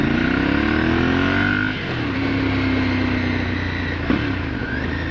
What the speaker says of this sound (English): Especially listening to that V-twin.